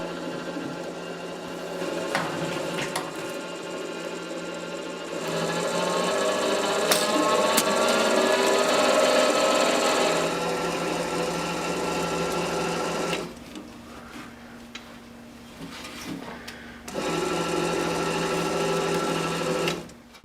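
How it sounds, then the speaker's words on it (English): A small MIG/MAG welder wire feeder motor, powered from a lab supply, pushes welding wire through the liner toward the gun nozzle, giving a steady whirring mechanical hum that runs almost continuously for twenty seconds. The hum changes level a few times and dips briefly in the middle. "I've now connected the motor to my lab power supply to test if the wire feeder is working."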